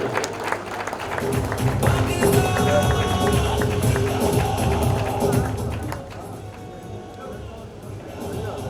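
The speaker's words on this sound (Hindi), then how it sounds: "बहुत ज्यादा तालियां, बहुत ज्यादा तालियां," At a prize distribution ceremony, an audience breaks into dense, sustained applause with some cheering that fades noticeably after about six seconds, while a voice speaks over the crowd.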